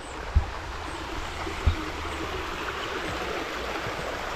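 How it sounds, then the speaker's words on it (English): Steady close rush of running spring water in a stream channel beside a village on the Almeria coast, a continuous even babble with two soft thumps near the start. "We love the sound of running water, Wendy and I."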